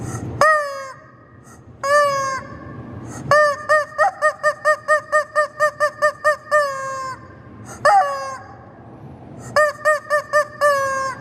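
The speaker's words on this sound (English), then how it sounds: "The Archie McPhee annoying chicken there." An Archie McPhee rubber chicken toy squawks loudly and close, a few long honking screeches followed by a rapid run of about a dozen short rhythmic squeaks, then more drawn-out wails, with no voices.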